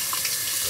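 Running tap water splashes steadily over a Gillette Mach 3 razor as it is rinsed during a shave, a close, continuous hiss with no talking.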